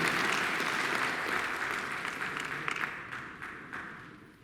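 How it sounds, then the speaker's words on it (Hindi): An audience at a press conference marking an anniversary greets a student with applause, starting full and dense, then thinning into scattered claps as it fades away. "एक बार जोरदार तालियों से स्वागत तेजस कौर सभ्य।"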